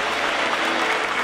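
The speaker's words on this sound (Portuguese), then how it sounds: "Você pode aplaudir o Senhor." A Baptist church congregation at an anniversary service applauds, a brief, steady wash of clapping hands with faint tonal music under it and no speech.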